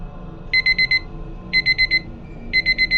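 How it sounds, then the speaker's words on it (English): A phone timer alarm goes off, with three bursts of four rapid, high-pitched beeps each, repeating about once a second over a low background hum. "It was my phone, alerting me that the timer I had set reached 0"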